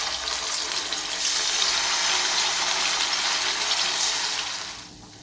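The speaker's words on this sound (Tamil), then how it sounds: "அடுத்து ஒரு பேனில் ஆயில் ஊற்றிக்கலாம்" Cooking oil pours into a frying pan for garlic chicken, a close, steady liquid rush that holds for several seconds before tapering off.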